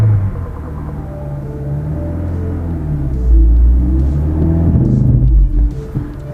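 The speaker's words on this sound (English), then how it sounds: "I almost had that clutch out the whole way, and it was revving" A car engine with a worn, slipping clutch revs up heavily from inside the vehicle, a loud, steady low rumble that rises and swells in the second half without any gain in pace, then eases off, with no talking.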